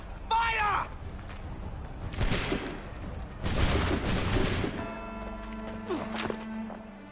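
Musket volley fired on command in Assassin's Creed 3: a shouted order, then loud crackling bursts of gunfire, the heaviest and longest near the middle, fading into lower rumbling and talk.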